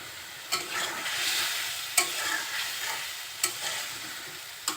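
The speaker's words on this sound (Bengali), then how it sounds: "সব কিছু এখন একটু ভালোভাবে কষিয়ে নিচ্ছি" Shing fish cook in spices with bitter gourd and potato, giving a soft continuous sizzle. A spatula scrapes sharply against the pan at regular intervals, close and fairly quiet, with no speech.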